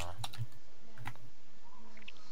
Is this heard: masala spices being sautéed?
no